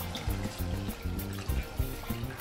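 Water being poured from a measuring vessel into a pan of cooked flour on the stove, a steady close splashing pour with uneven gulping surges and no talking.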